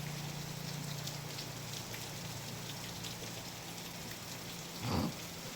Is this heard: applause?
no